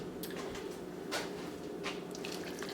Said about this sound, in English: I'm just gonna add maybe half a cup of water.